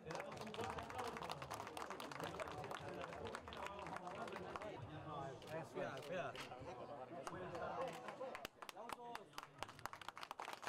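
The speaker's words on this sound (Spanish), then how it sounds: "Le damos un fuerte aplauso." An audience applauds at the unveiling of a plaque during the inauguration of social projects in Valladolid: dense, steady clapping over people talking, thinning out toward the end.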